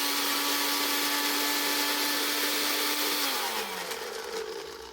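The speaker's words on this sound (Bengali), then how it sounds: "এখন আমি মরিচটা ব্লেন্ডার করে নিব" Electric blender whirring steadily as it grinds chilies with a little water, a loud continuous motor drone that holds for several seconds and then winds down near the end.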